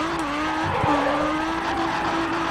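A Nissan R34 in GRID Autosport screeches its tires on a clutch kick, a loud sustained squeal layered over the racing engine's steady drone for the whole stretch, with no talking.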